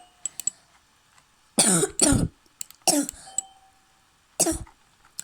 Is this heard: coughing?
yes